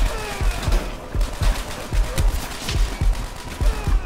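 Machine gun fire from the video game World at War comes in repeated heavy thumping bursts at a regular pace. It sounds loud and continuous, with scattered sharper cracks over a noisy battle background.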